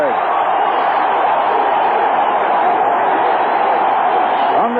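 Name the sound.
baseball stadium crowd cheering after tying run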